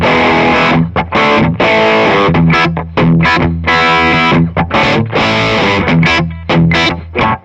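Electric guitar played through stacked overdrive pedals, a Will Sledge FX Veil and a Biyang OD-8, loud, saturated distorted chords and riffs in bursts with brief stops.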